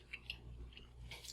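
A bite into a crunchy grain-free sweet potato hushpuppy with bacon, followed by quiet close crisp chewing, a few small crunches spaced irregularly under faint room noise.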